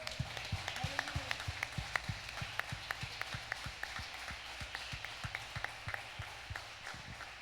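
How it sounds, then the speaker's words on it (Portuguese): A youth church congregation applauding: a quiet, rhythmic clapping that falls into a steady beat, fairly distant and soft against a faint room murmur, with no clear speech over it. "Você pode aplaudir a Ele bem forte"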